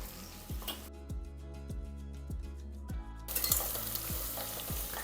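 A tomato rice mixture with salt and turmeric sautés in a pan, giving a faint, soft sizzle with a regular ticking pulse underneath, quiet and continuous, with no voices.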